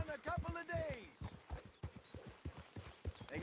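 A horse's hooves clip-clop in a steady, repeating rhythm in Red Dead Redemption 2 near Valentine, heard under someone talking through the whole passage.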